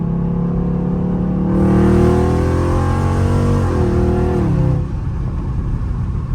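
A Dodge Charger Scat Pack V8 revs hard, then drops from fifth to fourth gear with a falling and rising engine note, loud and close from inside the car, with no talking.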